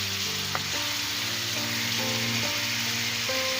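Tomato, green chili and onion frying for egg masala, a dense, even sizzle that holds steady and fairly loud from start to finish, with faint tonal hum underneath and no voices.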